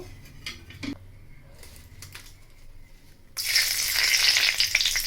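Whole spices—bay leaf, cardamom, cinnamon and cloves—hit hot oil in a kadai, with faint utensil clinks first, then a sudden loud sizzle that bursts up and holds steady to the end.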